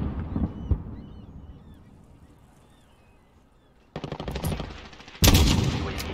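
Call of Duty gunfire aimed at a sniper: a few single shots early, a quiet lull, then two loud bursts of rapid automatic fire at close range.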